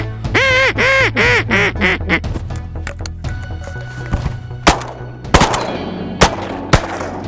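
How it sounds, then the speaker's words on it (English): Loud duck calls quack in a rapid series during a duck hunt in Alberta, then several sharp shotgun blasts ring out a second or so apart, close by and outdoors. "You know it's good shooting when you run out of shells."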